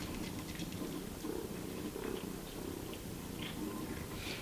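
Cats purr softly and steadily while eating raw beef, a low continuous rumble with faint wet chewing and small clicks on top, quiet and close.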